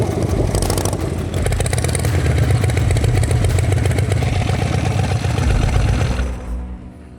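A custom-built motorcycle engine idles at about 1000 rpm, a loud, close, steady low thumping rumble with rapid pulsing that holds evenly, then drops away and fades near the end.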